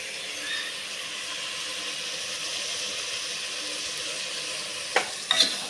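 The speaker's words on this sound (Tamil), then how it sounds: "அரிசி பருப்பு தக்காளி வெங்காயம் எல்லாமே ஒன்றா சொத்துறபடி நம்ம நல்லா கிண்டிக்கலாம்." Rice, dal, tomato and onion cook together in a pot while being stirred. A soft, continuous sizzle and hiss carries on evenly, ending with a couple of sharp knocks against the vessel.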